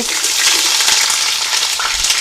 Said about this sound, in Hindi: तेल को आप गरम कर लेते हैं। उसमें आप डालेंगे एक बड़े साइज़ की प्याज